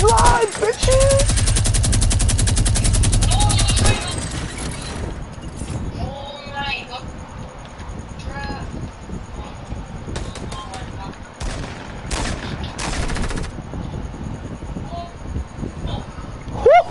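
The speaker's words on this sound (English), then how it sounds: "let the mini gun fly" Sustained minigun fire roars loud and dense for the first few seconds in a PS4 shooter game, then gives way to scattered shots, game effects and excited voices talking over the rest.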